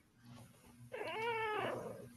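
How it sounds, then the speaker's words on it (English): A cat gives a single drawn-out, rising-and-falling meow, clear and fairly close against a quiet room hum, with no talking. "Makes Louise's kitty angry too"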